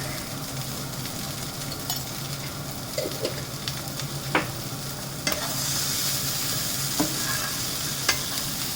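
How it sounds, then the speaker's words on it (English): Hing and turmeric stirred in sizzling oil in a pan for kanda batata poha, a continuous close frying hiss with occasional light spoon taps against the metal. "give it a quick stir"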